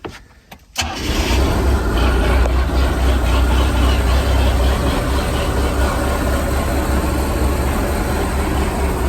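A MerCruiser boat engine cranks briefly, catches, and roars into a loud, steady rumbling idle that continues without a break.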